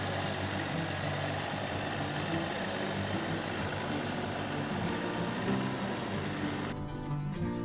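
A small tractor runs steadily nearby while spreading gravel by a little patio of 2x2 blocks, its engine a continuous low rumble with no breaks, holding even throughout.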